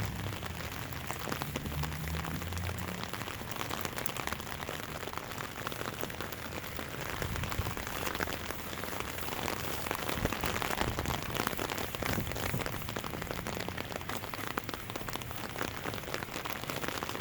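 Steady rain falling on a surface around an old car being washed outdoors, a dense, continuous patter that holds at an even level throughout with no voices.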